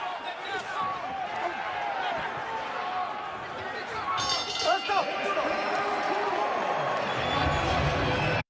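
Boxing arena crowd at a lightweight championship fight, a steady roar of spectators rising into a louder surge of reaction after a punch, with commentators talking over the noise throughout.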